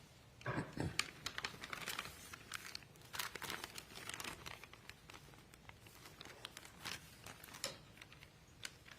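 Scissors cut open a sealed evidence package in a courtroom: irregular crinkling of plastic and paper with sharp snips and rustles, close and moderately loud, in short bursts over several seconds.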